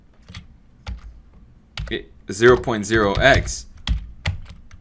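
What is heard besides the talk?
typing on a computer keyboard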